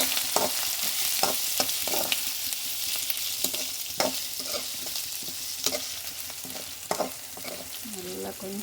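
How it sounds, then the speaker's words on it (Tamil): Fennel seeds, onion, dried red chillies and curry leaves frying in hot oil for a chicken gravy, a steady close sizzle with repeated scraping stirs of a spoon against the pan. "எண்ணெய் காஞ்சதும் சோம்பு, வெங்காயம், காஞ்ச மிளகாய், கொஞ்சம் கருவேப்பிலை போட்டு"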